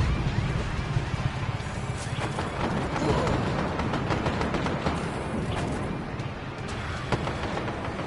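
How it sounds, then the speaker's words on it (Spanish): Explosions from a tank attack in Just Cause 3 make a constant, loud wall of rumbling blasts and crashing debris, with thuds recurring throughout and no pause. "Parece que se avecina una explosión."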